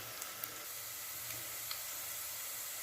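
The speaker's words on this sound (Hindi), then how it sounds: "इसको सुनहरा करना है आपने, गोल्डन प्याज को" Onions frying in oil for mutton korma, a steady broadband sizzle and hiss with a few faint ticks, close and even, no talk.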